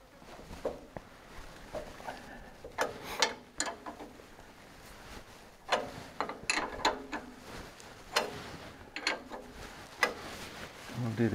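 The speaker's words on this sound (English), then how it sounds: "I'll just loosen that a bit." A wrench works a steering rod bolt on a Toyota Land Cruiser 60 Series, giving a scattered series of metallic ratcheting clicks and clanks with quiet pauses and some handling noise between them.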